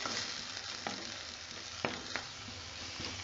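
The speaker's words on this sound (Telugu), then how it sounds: "చిన్న ఆయిల్తోనే చింతా అంతా వేయిస్తున్నాను" Tamarind leaves frying in a little oil make a faint, steady close sizzle, with a few sharp scrapes as they are stirred in the pan.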